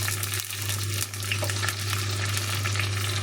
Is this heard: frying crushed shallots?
yes